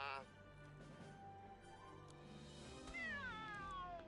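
Cat named Mr. Cinnamon meowing in a VR video game, a short drawn-out rising meow heard near the end, with a voice speaking over quiet background sound beforehand.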